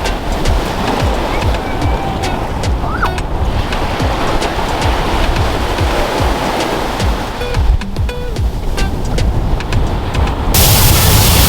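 Surf breaking steadily on Spots Beach, a free public beach on Grand Cayman, a loud continuous wash of waves with wind, no voices.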